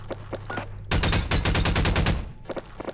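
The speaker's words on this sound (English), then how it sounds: "if you guys hear a loud pistol, it's me" Rapid bursts of loud gunfire in a Garry's Mod manhunt game, with a few scattered shots first, then a dense volley of around a dozen close cracks, and a few more shots at the end.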